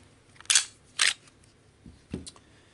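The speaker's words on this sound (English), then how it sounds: "we're going to take the gun apart." Sig Sauer P320 pistol being disassembled: a few sharp metallic clicks and snaps, two louder close clacks followed by softer ones, with no talking.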